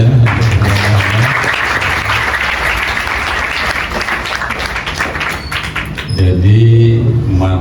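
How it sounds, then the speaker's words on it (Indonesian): Audience applause in a live Maulid Nabi discussion gathering, a dense crackle of clapping filling most of the stretch, with a voice speaking over the start and end. "Tepuk tangan ya."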